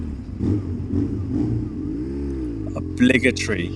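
A custom BMW R1150GS scrambler motorcycle revs with a quick throttle blip that swells and falls under a bridge, followed by sharp echoing bursts, with someone talking over the engine.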